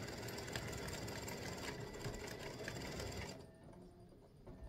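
An embroidery machine stitches a triple-stitch outline design for a monkey and banana tic tac toe board, giving a fast, steady mechanical whir and rapid needle clatter, close up, that drops off and goes quieter near the end.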